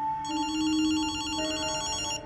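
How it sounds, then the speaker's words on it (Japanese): Bright, buzzy electronic phone ring in the game Ghostwire Tokyo, a continuous trilling warble lasting about two seconds over a low ambient hum. "電話だぜ。"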